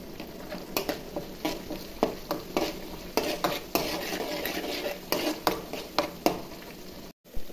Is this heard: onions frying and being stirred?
yes